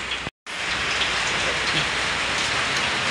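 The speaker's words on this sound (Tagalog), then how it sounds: "Maulan na naman." Steady, close rain pours down on a wet morning, a dense continuous patter broken only by a brief dropout near the start.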